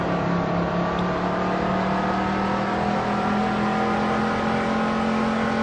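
A NASCAR race car engine in a racing video game drones loud and steady on a Brazil track, its tone holding at high revs with only slight pitch shifts and no voices.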